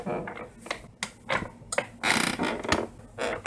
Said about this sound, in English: Sound 2 was the squeaking of a chair.